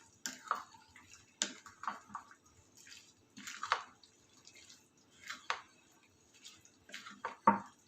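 Mango pickle being stirred by hand, a spoon scraping and tapping a bowl in scattered soft clinks and wet dabs at close range, with quiet pauses between strokes.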